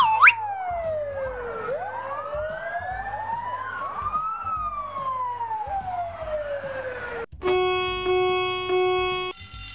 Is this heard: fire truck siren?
yes